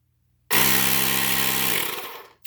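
A Ridgid 18V cordless tire inflator starts abruptly and runs with a loud, steady whirring buzz for under two seconds before winding down, with a small click at the end.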